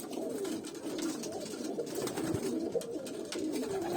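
Pigeons coo steadily inside a coop, a low rolling murmur from several birds that runs unbroken throughout at moderate loudness, with no talking.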